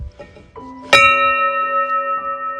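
A bell on an old farm, some 250 years old, rings once with a sharp strike and then a long, sustained metallic hum that slowly fades, with a few faint light knocks before the strike.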